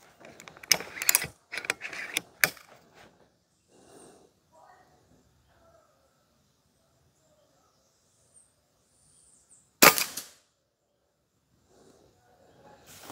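A Karma SLS airsoft gun fires a rapid string of shots in a quick burst, followed by softer mechanical clicks and one more sharp report, with faint talk around it.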